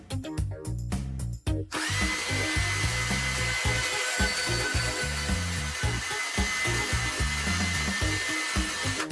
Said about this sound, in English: Milwaukee Portaband.